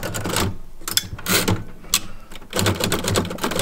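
Typing on an old Cougar Deluxe typewriter found in an abandoned house, with irregular bursts of clacking keystrokes and mechanical clatter close by, separated by brief pauses.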